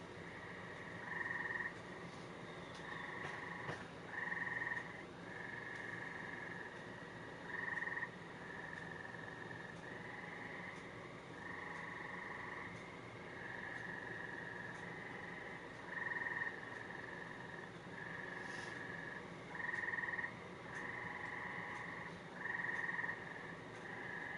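Frogs croak in repeated rhythmic bursts over a steady background hiss, the calls coming every second or two from a short distance.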